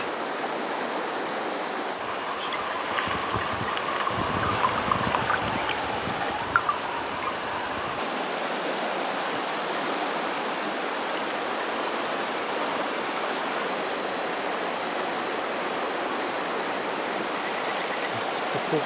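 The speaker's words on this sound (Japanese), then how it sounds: "やはり板取川の渓流域ここも水の美しさは抜群だ" The clear mountain-stream stretch of the Itadori River in Japan, an ayu fishing spot, gives a continuous rushing, babbling flow of water, even and moderately close, with faint incidental sounds early on.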